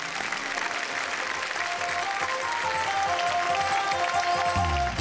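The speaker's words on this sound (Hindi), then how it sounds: "जोरदार तालियों के साथ।" At a Hindi poetry and comedy stage show, an audience claps loudly and steadily, with a rising swell of applause over five seconds and some low rumbling noise near the end.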